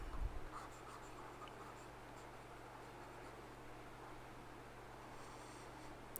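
A lecturer writes on a board during a classical mechanics class: faint, continuous scratching strokes sit low under steady room hiss and hum, with no talking.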